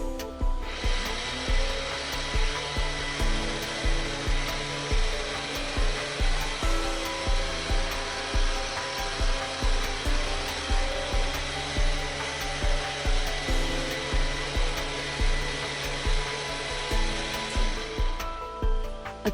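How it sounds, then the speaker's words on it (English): An electric blender purees soup until smooth with a loud, steady motor whir that pulses in a regular rhythm about once a second for nearly twenty seconds, then winds down near the end. "Use the blender, mix the soup well,"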